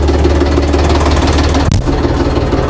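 A three-cylinder tractor engine runs close by with a loud, steady, knocking rumble and no other sounds over it.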